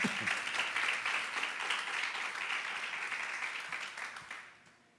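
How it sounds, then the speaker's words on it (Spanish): Congregation applauding the Lord during a church service, a broad, steady wash of clapping that holds for several seconds and then fades away at the end. "Dale un fuerte aplauso al Señor"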